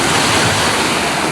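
Ocean waves break near rocks at Bolinao in a constant, loud wash of surf mixed with wind rumble on the microphone, steady and unbroken with no voices.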